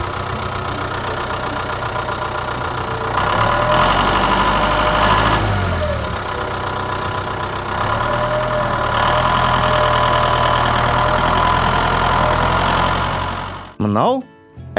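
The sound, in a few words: tractor engine running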